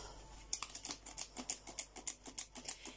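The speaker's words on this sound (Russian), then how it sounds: "сейчас просеем." Flour for cupcake batter is sifted in a quick, even series of soft tapping pulses, about five per second, close and quiet.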